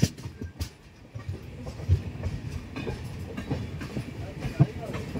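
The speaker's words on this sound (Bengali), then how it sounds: "এদিকে ঢুকছে দুরন্ত এক্সপ্রেস," A Duronto Express from Bangalore pulls into a station on the Mumbai main line, a rumble of wheels on rails with occasional clicks and knocks under a person talking nearby.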